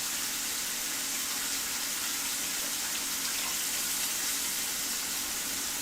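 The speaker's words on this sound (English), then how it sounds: "I'm going to dump water out of this bowl." Steady splashing rush of water being poured out of a bowl, continuous and fairly close, with no talking.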